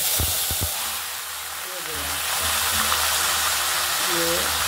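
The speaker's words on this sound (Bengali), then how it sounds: "মশলাগুলো দিয়ে হালকা আছে একটু ভাজা ভাজা করে নেব।" Whole spices with cumin seeds frying lightly in hot oil for a bottle gourd and moong dal dish, giving a steady close hiss and sizzle throughout, with a few short clicks and faint background voices.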